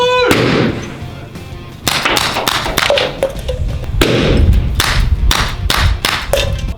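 Sharp pellet shots from a CO2 air gun ring out one after another in an irregular series, each a short loud crack with a thud, some followed by a brief metallic ping, close by.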